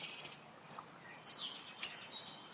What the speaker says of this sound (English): you can hear them in the background, all the different birds chirping.